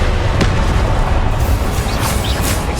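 Loud, dense blasts of a Confringo fire spell in Hogwarts Legacy, a continuous barrage of booming bursts and crackling debris filling the whole stretch without pause.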